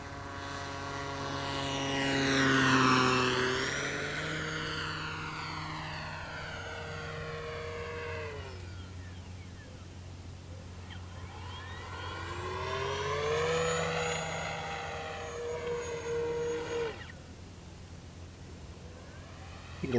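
Kavan Bristell B23 1600mm RC model airplane flying inverted, its electric motor and propeller whine rising and falling in pitch over two distinct passes, with clear Doppler sweeps as it approaches and recedes.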